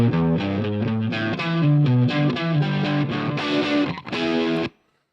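Solo DI electric guitar run through a Brit Plexi amp simulation plays distorted chords and riffs for about four and a half seconds, then cuts off sharply into silence.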